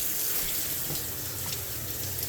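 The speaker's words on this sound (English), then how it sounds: "Hold on, I gotta turn the water on." Water running steadily from a kitchen sink tap into the drain above a newly fitted garbage disposal, a constant close hiss of flow with no talk.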